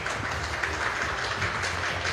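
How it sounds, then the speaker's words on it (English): Steady broadband clapping from an esports audience greets the players at a WBSC ePremier 12 baseball event, a dense, even wash of applause with no gaps for about two seconds. "let's give them a round of applause"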